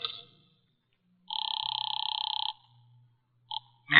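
A telephone rings in a radio drama: one sustained two-tone electric ring, then a brief second burst, heard clearly against near silence.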